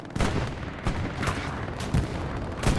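A machine gun lays down suppressive fire in the WWII shooter Hell Let Loose on the Purple Heart Lane map, with loud repeated gunshot bursts and booms arriving in a rapid, irregular rhythm.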